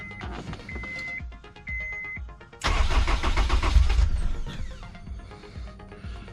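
A Honda S2000 with a repaired starter cranks with a rhythmic whirring and quickly fires up, the engine catching with a loud surge and then settling into a steady idle, close up with no voices.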